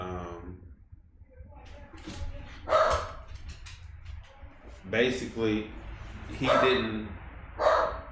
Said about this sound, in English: Excuse the dog, that's my pit bull dog.